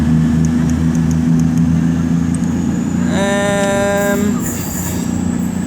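A Class 158 diesel train rumbles steadily and loudly nearby at Wolverhampton station, with a high brake or wheel squeal rising for about a second as it pulls in.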